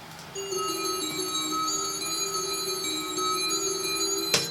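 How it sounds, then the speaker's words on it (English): A bell rings out with a clear, sustained tone that hangs and slowly fades, ringing alone and fairly loud within a One Minute Melee soundtrack song before a sharp knock at the end. "you will recognize those bells"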